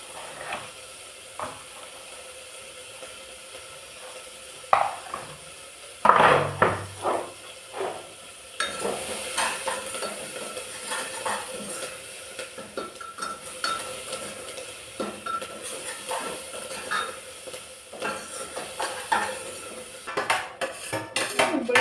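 Spiced eggplant mixture for bharta stirred in a metal pan, a spoon scraping and clinking against the pan with a soft sizzle underneath, in irregular bursts of stirring, close and fairly loud with no talking.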